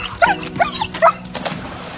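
Dogs in a river rescue give a few short, close whimpers and yelps in quick succession, with softer whining between them.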